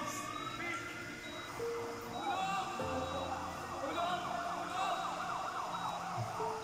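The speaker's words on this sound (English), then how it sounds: "The ambulance is coming." An ambulance siren wails with rising and falling sweeping tones, heard from episode 8 of the series My Story The Series and mixed with other road and scene sounds at moderate loudness throughout.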